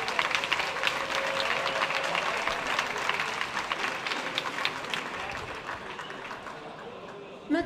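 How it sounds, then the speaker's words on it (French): At the opening ceremony of the 24 Heures de Saint-Jo 2023, a crowd claps steadily for several seconds, the applause thinning and fading near the end before a brief bump of noise. "Je pense que ça mérite des applaudissements."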